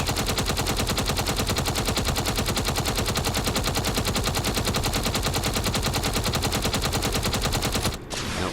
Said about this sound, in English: Because a lot of this is heavy armor, these machine guns aren't going to do much.